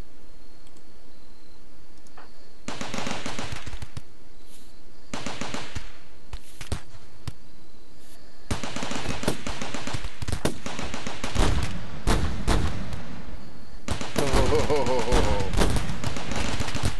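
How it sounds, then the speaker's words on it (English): Heavy gun turrets firing at raiders in RimWorld: dense bursts of rapid gunfire and clicks come in several waves over a steady background hum, loud and close. "Heavy guns did repel them rather quickly."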